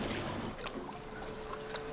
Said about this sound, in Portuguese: Som de motor submarino, basicamente.